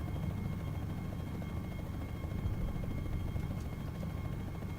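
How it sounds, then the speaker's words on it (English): An aircraft flies overhead, heard as a steady, loud low-pitched engine drone that holds an even level throughout with no talking. "Oh, there's a plane."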